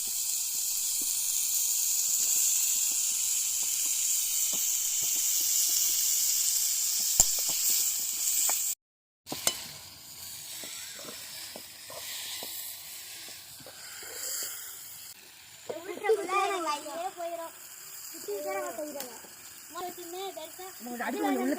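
Onions hissing and sizzling steadily in a hot pan while being tossed for a Tamil kootanchoru dish, a loud bright fry that cuts out briefly, then continues more softly as a person talks over it.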